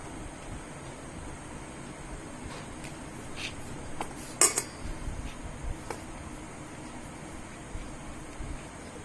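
Potatoes are lifted out of a dish with a utensil, giving a few quiet clinks and scrapes, the clearest near the middle, over a soft room background with no talking.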